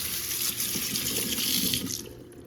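Water runs steadily from a kitchen sink faucet to rinse out a garbage disposal, a close, continuous splashing stream.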